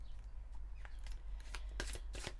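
Divinange oracle cards being handled and shuffled, heard as soft, close flicks and a few quick riffling bursts toward the end in a quiet room.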